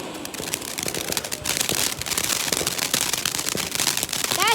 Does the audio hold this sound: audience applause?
no